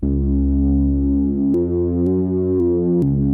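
A dark, muffled synth pad holds a low, droning chord that shifts pitch a few times, with no bright upper tones.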